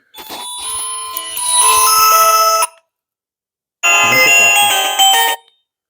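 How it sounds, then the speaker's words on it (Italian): A Sweetlink S1 plus mobile phone plays a loud, bright electronic melody ringtone in two bursts separated by a short silence, each lasting a couple of seconds, with no talking. "anche le suonerie si sentono molto bene anche se è chiuso in tasca o in una borsa"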